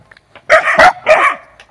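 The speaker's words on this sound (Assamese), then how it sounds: "কুকুৰে ভুকিছে" A house dog barks three times in quick succession, loud and close, with short gaps between the barks and no talk over them.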